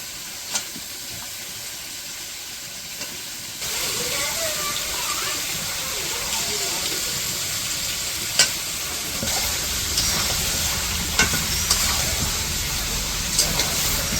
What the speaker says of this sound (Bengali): মাংসটা দিয়ে দিয়েছিলাম, একটু সময় কষে নিলাম।